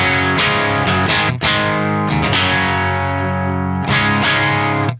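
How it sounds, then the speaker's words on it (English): An electric guitar runs through a real Soldano SLO100 amplifier, playing heavily distorted, loud chords that ring out and sustain with a few choppy re-strikes, alone and without talking. "so listen, this is the amp."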